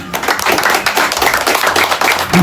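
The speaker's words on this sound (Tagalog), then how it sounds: "At po bigyan po ng isang malakas na palakpak ang Team Kalinga." Applause for a housing team at a ribbon cutting for a newly built house, with a provincial governor visiting: dense, steady clapping from a gathered crowd that holds loud and close the whole way through, with no pauses.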